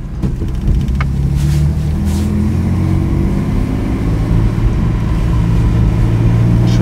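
A 1958 Lancia Aurelia B20 GT sports car idles with a steady, deep engine rumble, close and loud throughout, with no voices.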